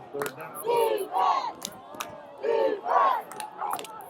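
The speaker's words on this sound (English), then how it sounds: "Patriot crowd making noise." Home football crowd at a high school varsity playoff game, roaring in several loud swelling bursts with short lulls between, heard from the stands at mid distance.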